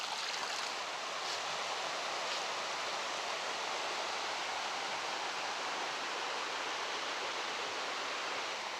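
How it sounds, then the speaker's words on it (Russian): Mountain streams rush downhill in a forest, a steady broadband roar of running water that holds constant and fairly loud throughout, with no voices. "Ручьи сбегают с гор прямо один за одним"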